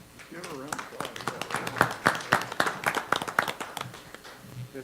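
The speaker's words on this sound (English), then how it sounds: "Give her a round of applause." An audience at a school board meeting applauds, with a dense run of claps swelling through a few seconds of steady clapping over faint room noise.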